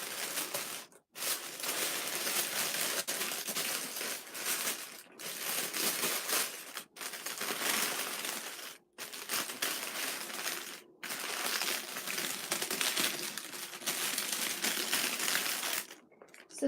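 Tissue paper crinkles and rustles steadily while a box is unboxed, loud close crumpling bursts broken by several brief pauses.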